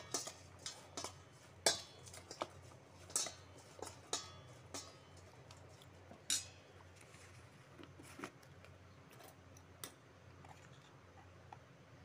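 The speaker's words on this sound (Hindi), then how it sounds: "हम इसे अच्छी तरह से मिक्स कर लेंगे इस भिंडी में, जिसे अच्छी तरह से भिंडी में कोट हो जाए।" Okra (bhindi) tossed with spices in a bowl while cooking crispy bhindi. Faint, scattered clinks and taps of a utensil against the bowl, irregular and fairly soft over a quiet background.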